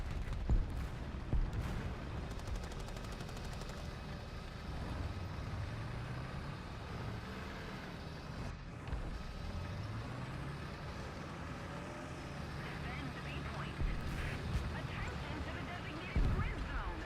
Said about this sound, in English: Chieftain Mark 10. Such a loud engine.